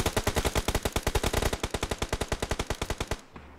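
Automatic weapon fire in the battle game PUBG Mobile rattles out as a long, evenly spaced burst of about thirty loud shots, then stops abruptly with a short faint tail.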